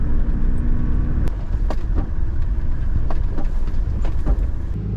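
A 4WD car on a test drive at Mt Dare rumbles with a loud, steady low road and engine drone, with scattered knocks and rattles from the body over rough ground.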